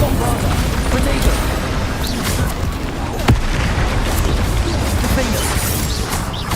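Spell explosions in the video game Hogwarts Legacy, dense rumbling blasts and bursts layered over continuous battle noise, with one sharp crack near the middle.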